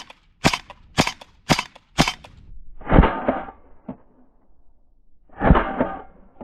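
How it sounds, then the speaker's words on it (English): Airsoft shotgun firing at a target about 50 feet away: four sharp, evenly spaced cracks in quick succession, then two louder, broader blasts separated by a pause, close and punchy with no talking. "We also bought one more mag with this airsoft shotgun."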